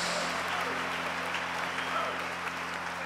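Church congregation applauding during a service, a sustained even wash of clapping with a low steady hum beneath, continuous and moderately loud, with a voice faintly mixed in.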